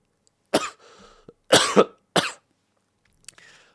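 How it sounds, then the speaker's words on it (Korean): Several harsh coughs close by, in a quick cluster of three followed by a softer one after a pause, with brief wheezy breaths between. "스트레스 받아서 막 기침이 나오는데"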